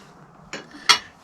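Two quick metallic strikes ring out alone as copper stock for knife handle pins is cut, the second sharper and louder than the first, close by in a quiet workshop.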